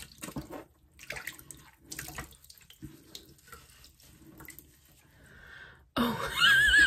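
Tap water running into a sink to rinse off a face mask, a sudden loud, steady rush near the end after quieter rustling and movement, with a person nearby.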